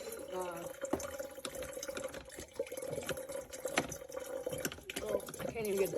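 A Breville BDC450BSS Precision Brewer drip coffee maker with thermal carafe lets liquid trickle and patter in irregular drips, heard close and fairly quiet, with a voice talking over part of it.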